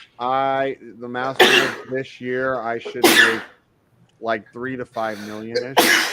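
A sneeze bursts out amid casual podcast-style talk between men, a sharp noisy blast standing out from the steady speech.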